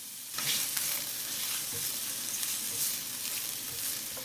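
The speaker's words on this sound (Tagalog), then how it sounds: "Maggisa tayo ng sibuyas." Onions sautéing in a pan for a meaty fries dish sizzle steadily and close up, a continuous crackling fry with occasional stirring, no voices.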